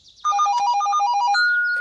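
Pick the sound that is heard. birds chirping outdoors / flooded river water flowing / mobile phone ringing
mobile phone ringing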